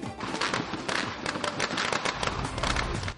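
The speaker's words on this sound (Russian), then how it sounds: "А завершились народные гуляния на набережной Сухума салютом." A fireworks salute over the Sukhum embankment at a public festival, with dense rapid crackling and popping bursts, loud and continuous throughout.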